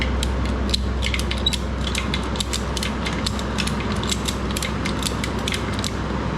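Ratcheting crank on a boat trailer brake clicks repeatedly in a steady rapid series of sharp ticks with some creaking, close up and alone over a low background hum.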